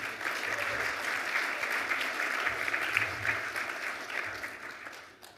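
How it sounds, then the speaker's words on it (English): An audience at an Aboriginal honour roll ceremony claps warmly and steadily for several seconds, the applause fading near the end. "Give her a round of applause too"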